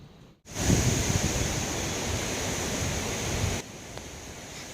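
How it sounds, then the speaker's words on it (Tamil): Hurricane Helene wind and rain lash Tampa, Florida in a loud, roaring rush of broadband noise that starts abruptly, holds steady for about three seconds, then drops suddenly to a softer gusting background. "இங்கே டேம்பாவில் ஹெலன் ஹரிக்கேனால எப்படி காற்றும் மழையும் அடிச்சுட்டு இருக்கு பாருங்க."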